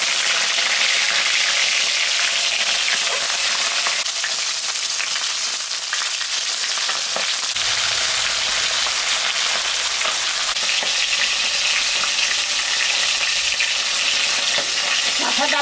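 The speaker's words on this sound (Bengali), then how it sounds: "আমি এখন মাথাটা ভাজে নেব।" A large katla (rohu) fish head fries in hot oil, giving a loud, steady sizzle and crackle that runs unbroken throughout, with no one speaking.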